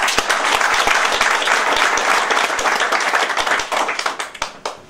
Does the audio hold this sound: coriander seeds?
no